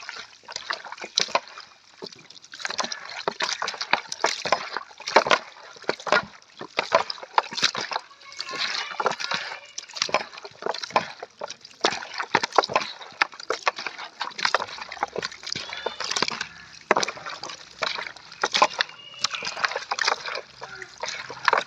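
Chicken pieces are mixed and turned with turmeric powder and tamarind for a Jaffna-style chicken curry, giving irregular wet squelching and slapping sounds in quick succession, close and fairly loud.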